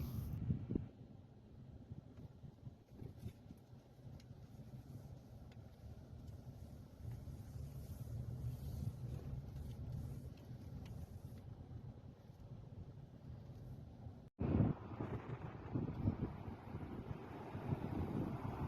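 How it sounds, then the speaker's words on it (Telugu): A strong desert sandstorm wind in Kuwait roars and buffets the microphone continuously, with gusty low rumbling and a brief sharp cutout near the end before the blast resumes, with no voices. "అంతా గాలి సౌండే. అది చాలా తీవ్రంగా భయంకరంగా ఉంది గాలి సౌండ్."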